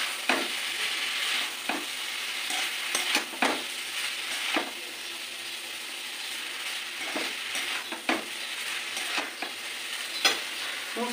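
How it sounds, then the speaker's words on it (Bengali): Chowmein noodles stir-fried in a pan for restaurant-style mixed chowmein, a soft steady sizzle broken by repeated scraping and tossing strokes, close and fairly quiet with no talk. "আর একবার করে আমি ওপর নিচে করে নেড়ে দেবো।"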